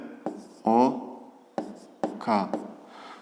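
Pen or pencil writing on paper during a fifth-grade maths exercise, short scratchy strokes in a few brief bursts, close, mixed with a voice speaking.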